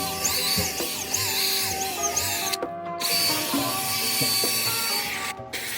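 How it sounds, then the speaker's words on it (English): A drill brush scrubs the seats of a Toyota RAV4 during interior detailing: a steady, close whirring grind with rubbing texture, cutting out briefly twice. "I use a drill brush to agitate the dirt"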